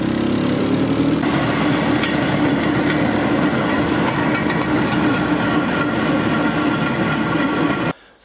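A vehicle drives along an old, half-abandoned railway line near Tver, its engine a loud, steady mid-pitched drone that runs on without a break and then cuts off sharply near the end.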